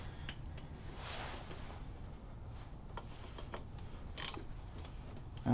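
A socket wrench ratchets on a Harley Twin Cam engine during a 95-inch big bore kit install, giving faint, sparse ticking clicks over a steady background hiss with no talking.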